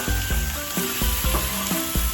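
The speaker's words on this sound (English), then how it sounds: "We're gonna be putting the chicken on the Blackstone" Chicken sizzles steadily on a Blackstone griddle, with a dense frying hiss and repeated sharp scraping taps of spatulas chopping against the flat-top surface.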